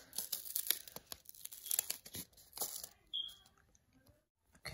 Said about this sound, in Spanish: ya le quitamos el cartón de arriba